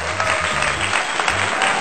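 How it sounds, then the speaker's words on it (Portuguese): A group of cartoon children applaud a teacher in a classroom scene, brisk clapping heard briefly over a low background tone. "Merece uma salva de palmas."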